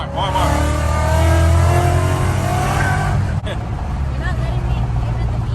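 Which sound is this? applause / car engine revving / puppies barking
car engine revving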